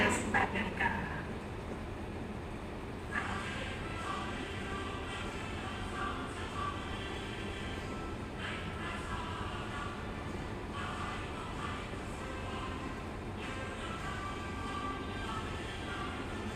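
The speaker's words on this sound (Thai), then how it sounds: "แล้วก็เดี๋ยวรอส่งขบวน 313 ด้วยกัน" A Hitachi 4508 locomotive hauls an ordinary passenger train at Ban Phachi station in Thailand, giving a steady, even rumble that runs throughout at moderate distance.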